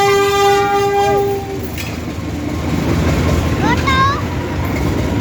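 A train horn blares with a long sustained tone, then a second shorter horn call, over the rumble of a passing train and nearby voices.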